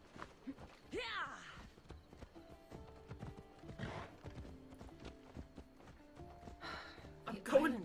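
A horse in Assassin's Creed Odyssey clip-clops along at a steady walking pace, close by, with a neigh and breathy snorts mixed in over light game ambience and occasional voices.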